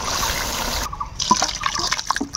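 Rendered fish oil being poured out of a pan, a liquid splashing and trickling sound, first a steady pour then broken drips and clinks, close by.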